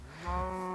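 A single short moo from a cow in the video game Minecraft, a low, swelling blocky call lasting under a second, heard alone and fairly close.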